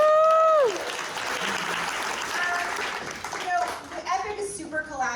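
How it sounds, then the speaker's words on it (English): Audience applause at a theatre talkback for a production of The 25th Annual Putnam County Spelling Bee, a burst of clapping that fades quickly beneath a voice and scattered chatter. "Everybody give Will a round of applause."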